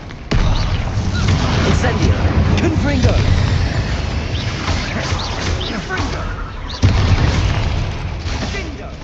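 Confringo fire-blast spells explode in the Hogwarts Legacy video game, with repeated booming bursts and crackling impacts layered over a constant loud roar of battle, including a sharp blast near the start and another later.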